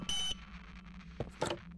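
An in-game phone rings in Poppy Playtime Chapter 3, two short electronic bursts of tone, the first steady and the second broken, set over a low humming background.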